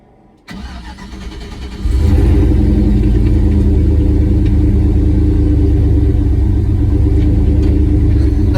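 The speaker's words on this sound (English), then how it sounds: "All right, let's fire this bad boy up, go for a drive." An old car fitted with a swapped-in LS V8 cranks and fires at about half a second, then settles into a loud, deep, steady rumbling idle that builds further at two seconds and holds near and heavy to the end.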